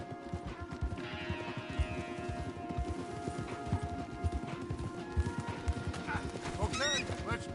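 Horses gallop with steady clip-clop hoofbeats in Red Dead gameplay, the rhythmic pounding continuous and fairly loud, with faint whinnies and a music bed beneath.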